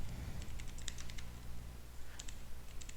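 Keys clatter on a computer keyboard as code is typed, coming in quick bursts of clicks with short pauses in between. The sound is close and fairly quiet, and no one speaks.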